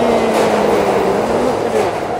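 A Brooklyn subway train arriving roars loudly nearby, a dense rumbling rush with a faint steady whine, filling the space with no voices.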